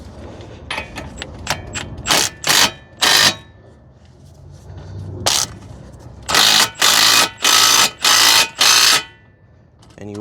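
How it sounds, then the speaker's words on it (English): An impact wrench with a 21 socket runs a lug nut down onto an extended wheel stud while Z1 wheel spacers go on an Infiniti G37. It sounds as two clusters of loud, sharp rattling bursts with a lull between them, close by. "We're gonna use an impact,"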